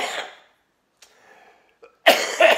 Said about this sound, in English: That cough makes me sad.